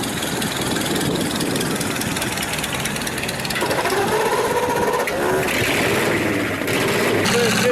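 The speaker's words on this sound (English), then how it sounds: "That's a real engine, that one." Engine running loud and close with a rapid, mechanical clatter like a sewing machine, a heavy low throb beneath, its tone shifting midway as talk and other noises mix in.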